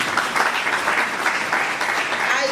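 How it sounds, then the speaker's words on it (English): Applause from participants at a polytechnic international conference, a brisk, steady crackle of many hands clapping at close range, unbroken for the short stretch. "A round of applause to that."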